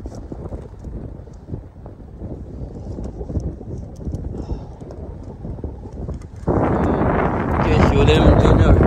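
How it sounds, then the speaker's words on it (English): Wind buffeting the microphone outdoors on a frozen lake during ice fishing, gusting in rough bursts that become loud and continuous in the last seconds. "We have nice weather, but it's a little windy today."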